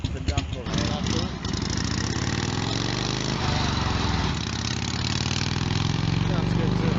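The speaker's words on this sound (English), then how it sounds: "That's the knucklehead." Harley-Davidson Knucklehead V-twin running steadily at idle on an engine stage, a loud, continuous low rumble with a rhythmic lope throughout, and people talking over it.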